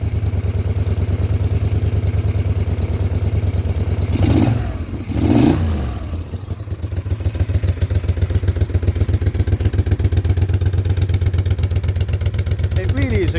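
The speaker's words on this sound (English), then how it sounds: "it's running nice and evenly on both cylinders" A Moto Guzzi V50 Monza, a small Italian classic V-twin motorcycle, idles steadily and evenly on both cylinders with a close, regular thumping beat, briefly blipped twice early on, while someone talks over it.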